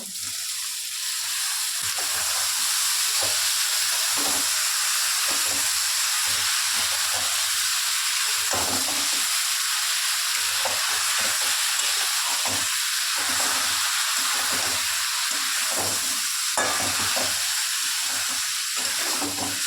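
Boiled yam stems and potatoes frying in oily spice masala in a pan, a steady close hiss and sizzle with rhythmic scraping and stirring strokes running throughout.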